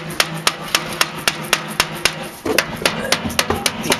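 Rubber hammer striking material to shape it at a bio-char workshop, a steady series of evenly spaced dull thuds, about four per second, close and clear over faint background noise.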